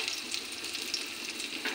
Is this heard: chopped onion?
yes